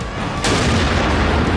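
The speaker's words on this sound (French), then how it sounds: "Le Golfator qui est donc un canon entièrement en métal." An all-metal, oxyacetylene-fuelled golf-ball cannon fires a single loud, abrupt blast that rings out in a sustained, roaring decay, heard alone with no voices.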